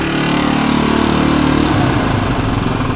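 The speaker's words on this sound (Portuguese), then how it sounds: "Pegou de primeira, motor ó, frio." A cold Honda XLX 250R motorcycle engine idling close by: a steady, buzzing single-cylinder run with a fast, even pulse that shifts slightly partway through.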